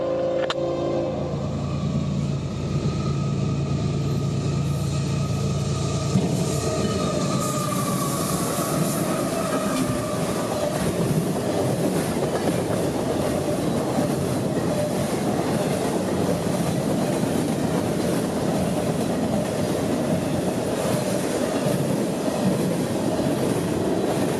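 A CSX freight train led by locomotive CSXT 848 rolls past on a Central Florida mainline, a loud continuous rumble with wheel clatter and rail screech that holds steady throughout.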